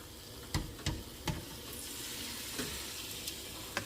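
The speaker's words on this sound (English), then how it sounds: "Hear that sizzle?" Chicken pieces sizzle in a hot air fryer basket with a steady frying hiss, close and fairly quiet, broken by several small crackles and taps as the pieces are set down.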